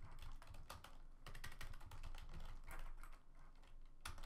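Rapid, uneven keystrokes on a computer keyboard, clicking in quick bursts with brief pauses between them, close and fairly quiet, with no voices.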